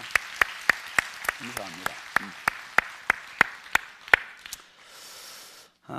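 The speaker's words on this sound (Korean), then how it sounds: "모두를 위해서 함께 축복의 박수하겠습니다" A church congregation claps in slow, loud unison, about fifteen sharp claps at an even beat, while someone speaks briefly over them before the clapping stops.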